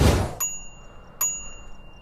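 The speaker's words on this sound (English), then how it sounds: "And on the left side, we have our front brake and a bell." Two short bright dings from the handlebar bell on a Gyroor C1 Plus electric scooter with seat, rung about a second apart after a brief noisy start, close and clear with a faint ring-out.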